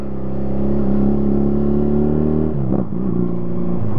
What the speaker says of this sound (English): still picks up all of the noise from the bike and the road